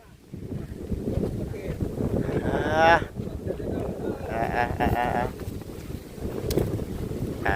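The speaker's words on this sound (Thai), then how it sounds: "โอ้คือลมแท้บ่นี่" Strong wind buffets the microphone outdoors, a steady roaring rush with gusty swells, while people talk over it.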